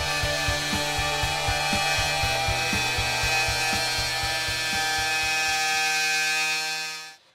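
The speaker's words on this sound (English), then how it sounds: "the hand router can be used for cutting along the fence with a circular cutter" Hand router with a circular cutter cutting along a fence on a woodworking workpiece, giving a loud steady motor whine with a faint regular ticking that runs throughout, then cuts off at the end.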